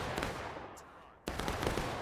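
Dense musket gunfight from the Civil War battle game War of Rights, with rapid overlapping rifle volleys crackling close and far, briefly easing before a sharp loud burst of renewed firing.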